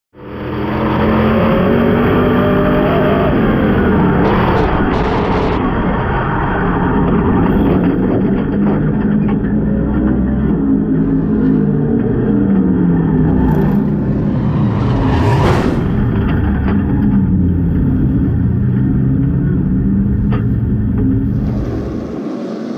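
Street stock race cars roar around a dirt oval during a Raber's Rumble feature, a loud continuous pack of engines with rising and falling revs as cars charge past and out of the final turn.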